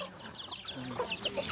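Chickens on a rural Thai farm cluck in a steady, moderately near stream of short chirpy calls, with a brief brighter call at the end.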